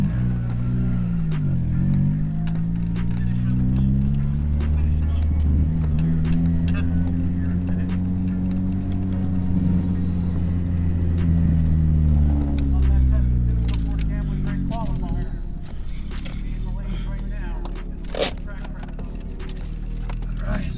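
Nissan B13 with a 1.6 turbo engine at a dragstrip, running with a humming, shifting drone that rises and falls, joined by scattered clicks and knocks and someone talking over it.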